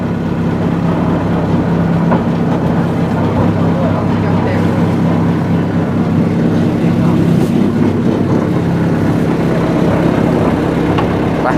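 A ferry crossing the Mekong River gives off a loud, continuous low engine rumble and drone. The sound holds steady throughout, with faint background voices mixed in.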